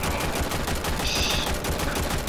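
Rapid automatic assault rifle gunfire in the video game Warframe rattles continuously and loudly, a dense burst of shots with no gaps.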